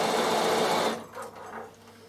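A Bernina sewing machine stitching zigzag on wool applique runs as a loud, fast, steady whir for about a second, then stops, leaving quieter faint mechanical sounds.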